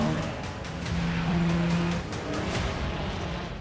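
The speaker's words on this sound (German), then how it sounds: "Es ist der Porsche 919 Hybrid mit 900 PS" Porsche 919 Hybrid race car with 900 horsepower, a loud continuous engine drone with a steady low hum that rises and settles, close and unbroken, with no one talking.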